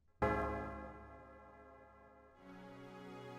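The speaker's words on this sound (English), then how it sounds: "now the death bell wants to toll" A single deep bell strikes loudly and rings out with a long, slowly fading hum, followed by a soft, sustained chime-like tone.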